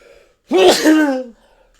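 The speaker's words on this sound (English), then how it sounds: "Man, I'm going to sneeze." A man lets out a single sharp sneeze, loud and close, a short burst after a moment of quiet with nothing else around it.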